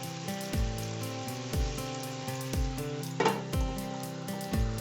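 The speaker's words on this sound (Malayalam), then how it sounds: "ഇനി നമുക്കൊരു സിമ്മിലിട്ട് ചെറുതായിട്ടൊന്ന് കുക്ക് ചെയ്യാം." Chicken with crushed garlic frying in a covered pan over a low flame, giving a steady close sizzle with soft recurring bubbling pulses throughout, with no talking.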